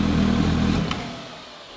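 A Suzuki GSR 750 motorcycle engine idles with a steady low hum while its cooling fan runs, then is switched off, leaving only a fading, quiet tail.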